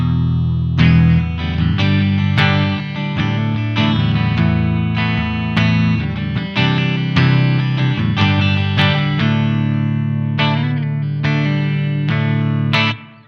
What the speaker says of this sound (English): The first knob is a depth, and it makes the reverb longer.